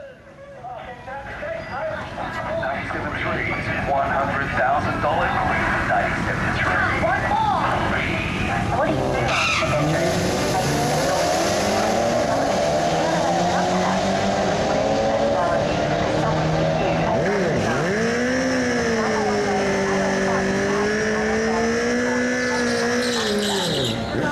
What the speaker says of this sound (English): This drag run was shot with a stock supercharger